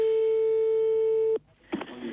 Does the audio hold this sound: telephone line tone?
yes